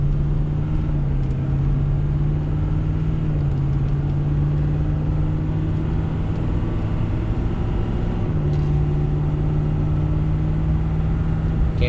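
Ford Powerstroke diesel truck accelerating, heard from inside as a steady low engine drone with smooth, barely noticeable pitch steps at gear shifts.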